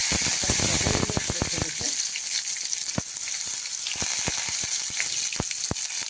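Cumin, mustard seeds and curry leaves sizzling in hot oil, a dense crackling burst that settles into scattered sharp pops and spits, close and fairly loud.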